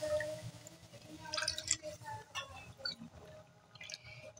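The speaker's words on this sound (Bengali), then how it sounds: "এবারে এতে দিয়ে দেব জল।" Water is poured into a pot holding semolina, three bowls of water to one of semolina, making soft, faint splashing and dripping sounds that come in irregular bursts.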